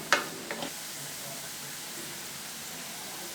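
Chopped onion and two tomatoes fry in a pan for paneer masala dosa, giving a steady soft sizzle with a couple of faint clinks near the start.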